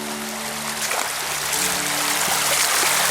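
Fast river water in New Hampshire rushes over shallow cobbles with a continuous bright, hissing flow and a few small splashes. Steady and close, with no voices.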